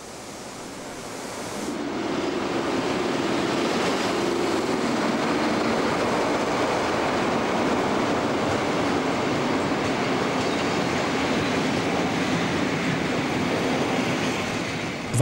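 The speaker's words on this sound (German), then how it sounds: "Einfahrt hat ein D-Zug aus Wismar. 2 Loks der Baureihe 219 sind an der Spitze." A Deutsche Reichsbahn express train from Wismar rolls into the station behind two class 219 diesel locomotives, a loud sustained rumble and rail roar that builds after a quiet start and holds steady.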